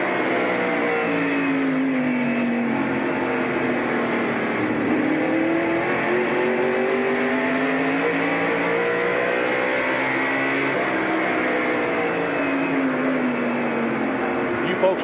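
Ricky Rudd's race car at the 1989 Goody's 500, heard from inside the cockpit: a loud, steady engine drone with shifting pitch sweeps as it revs through the corners, continuous and without talk.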